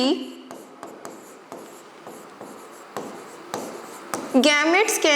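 Chalk or marker on a classroom board as a teacher writes biology notes, giving a steady run of quick scratchy strokes and taps, with a voice talking over the end.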